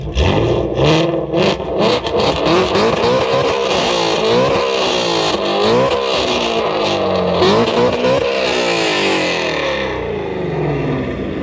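A 2019 Ford Mustang GT350R with its V8 roars loud and close as it accelerates hard, the engine note rising and falling through sustained revs for about eleven seconds.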